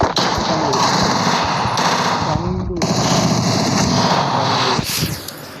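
Rapid gunfire from a shooting video game in Lone Wolf mode, with pistol and bursts of automatic fire rattling continuously throughout, loud and dense, mixed with game sounds and a voice talking over it.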